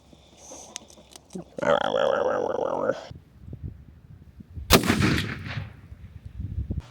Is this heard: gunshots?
yes